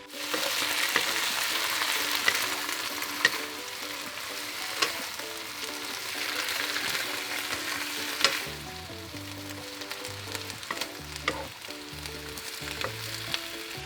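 Chinese cabbage stir-frying in a hot pan with light and dark soy sauce and a pinch of white pepper, a continuous crackling sizzle with occasional sharp clacks and scrapes of a spatula, the hiss easing and turning gentler toward the end.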